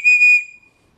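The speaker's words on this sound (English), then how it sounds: "there's a whistle on the other end. And actually, it's a pretty darn good whistle" A small whistle from a Polymath Products mini survival tin gives one sharp, shrill blast close by, holding steady for under half a second before cutting off into silence.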